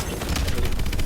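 Rapid, dense gunfire from the game Call of Duty: Advanced Warfare rattles on without a break, loud and close, with overlapping shots blurring into a continuous burst.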